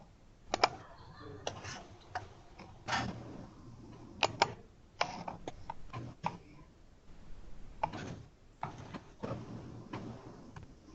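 Quiet typing on a computer keyboard: irregular bursts of small clicks and taps in short runs with pauses between, close and soft, with no talking.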